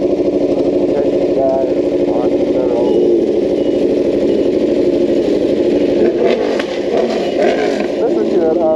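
A Yamaha R3 motorcycle engine drones steadily and close throughout a road ride, with a rising rev toward the end, under wind noise and talking.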